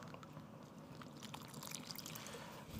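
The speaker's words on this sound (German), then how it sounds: "nehmen wir mal an, ich gebe der Pflanze Wasser" Water is poured onto a plant, a soft continuous trickle and splash lasting a few seconds, faint and close, with no voices over it.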